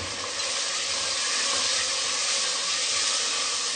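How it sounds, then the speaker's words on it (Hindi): Ground spice masala of turmeric powder, salt and coriander powder fries in a pan for kadhi pakora, giving a steady, even sizzle at close range that runs for the whole stretch with no voices. "मसाले को हम बहुत अच्छे तरीके से भूनेंगे।"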